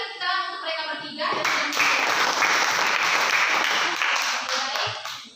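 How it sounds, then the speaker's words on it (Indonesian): A classroom of students applauds three presenters, with clapping swelling in after a moment of voices and holding steady and loud before tapering off at the end. "Sekali lagi tepuk tangan untuk mereka bertiga."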